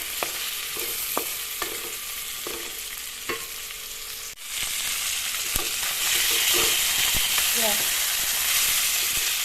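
Fish curry ingredients fry in a pan with a steady, loud sizzle, broken by repeated sharp clicks and scrapes of stirring. Brief faint voice fragments show up near the end.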